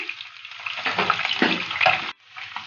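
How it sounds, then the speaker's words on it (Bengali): Garlic frying in mustard oil in a kadai for a dried loitta fish curry, a close, bright crackling sizzle with stirring noise that cuts off briefly near the end before resuming softly. "এখন সরষের তেল দিয়ে আমরা শুটকি বোনাটা করব। আমরা শুটকি বোনার জন্য প্রথমে কড়াইতে তেল দিলাম। তেল দিয়ে তারপরে রসুন দিলাম।"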